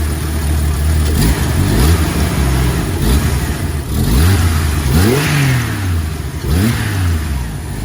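An old Jeep engine revs repeatedly, rising and falling in several loud, close bursts over a rough idle, with no talking.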